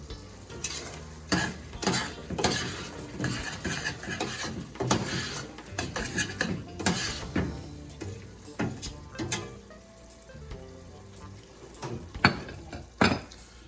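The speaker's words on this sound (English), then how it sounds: "let that continue to simmer for about 2 more minutes before I add my chow mein back into my seasonings here" A shrimp chow mein seasoning sauce bubbles and sizzles in a pan as a utensil stirs it, giving repeated close scraping strokes and clinks over a low simmering hiss.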